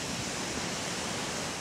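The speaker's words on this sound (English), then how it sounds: "Here's another one of these waterfalls." A waterfall in the Scottish Highlands gives off a steady, even rush of falling water, constant and fairly soft with no other sounds.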